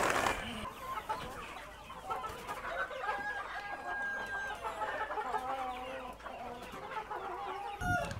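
Free-range desi chickens and a rooster cluck and call repeatedly at a village poultry farm, a busy layered chorus of hens with occasional rooster notes, fairly close and moderately loud, with no one talking.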